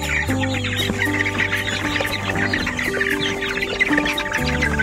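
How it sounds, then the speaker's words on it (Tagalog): Chickens and chicks clucking on a farm, a dense continuous chorus of overlapping clucks and chirps close by, with steady poultry noise throughout and no talking. "Ayan na po yung mga sumibol ng ating mga sisiw."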